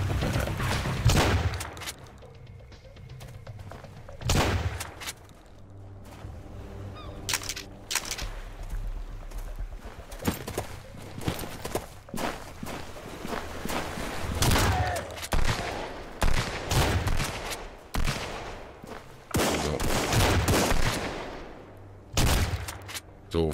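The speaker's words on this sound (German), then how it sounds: "Von wo wird hier geschossen" Bursts of gunfire in the survival game Sunkenland: loud, ragged volleys and single cracks spread across the stretch, with brief quieter gaps between the barrages.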